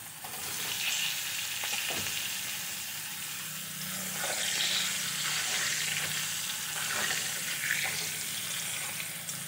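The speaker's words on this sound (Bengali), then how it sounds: "ডিম ভাজা তেলের মধ্যেই আলুগুলো ভেজে নেব।" Potatoes fry in oil left over from frying eggs, giving a steady bright sizzle and crackle with occasional stirring scrapes, close and constant with no voices.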